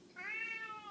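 A cat gives a single rising-then-falling meow, close and clear, lasting under a second with no talking around it.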